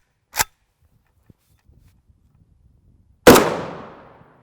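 Two sharp, loud reports from a 7.62x39mm rifle firing 123gr FMJ rounds at a bench, with a small KCI magazine, folding stock and hinge; the second shot rings out with a long decaying echo, separated by near silence.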